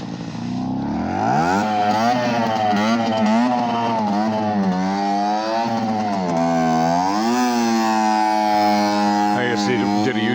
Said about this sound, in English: Somebody's riding some kind of gas-powered scooter bike thing with zero lights.